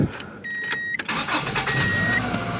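A 1990 Subaru Legacy engine with 43,100 miles cold starts, cranking and catching, then settles into a rough running rumble with brief metallic whines, close by and fairly loud, no voices.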